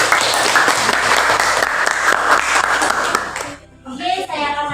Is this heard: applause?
yes